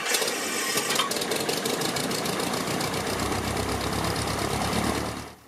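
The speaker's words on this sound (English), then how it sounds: "Let's take a listen and see just how easy it starts." A 1969 Cessna 172K Skyhawk engine cranks and starts, settling into a close, steady, knocking idle that runs continuously before cutting off abruptly at the end.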